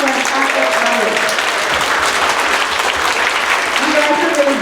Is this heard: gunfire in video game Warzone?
no